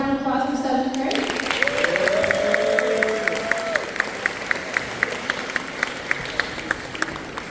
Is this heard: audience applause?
yes